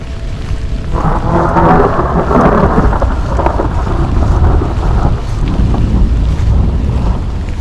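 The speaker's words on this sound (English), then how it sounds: "The lightning's getting closer and closer." A thunderstorm on a long overland road trip rumbles with low thunder and steady rain, heavily buffeted by loud wind noise throughout.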